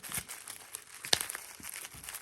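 Crinkly plastic packaging from a Nixie tube clock kit is opened up close, rustling and crackling with short irregular scrunches and one sharper snap partway through.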